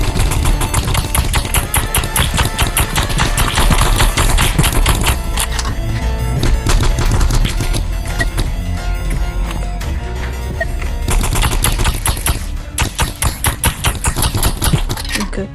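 Rapid paintball gun shots in the video game Animal Rivals, a loud dense burst of repeated firing that briefly pauses before resuming, mixed with game sound effects and no talk.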